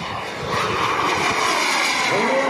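A model jet aircraft makes a low pass at an airshow, a loud turbine roar and whine building and then holding steady as it sweeps close by.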